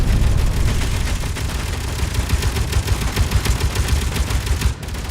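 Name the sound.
guns firing in Space Engineers video game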